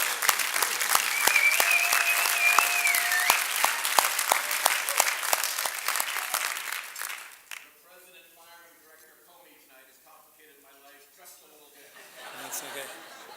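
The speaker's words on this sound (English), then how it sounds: "I think he deserves an applause, actually." Warm applause breaks out from the audience at a climate leadership gala, loud and continuous for about seven seconds, then dies away into quieter talk and a ripple of laughter.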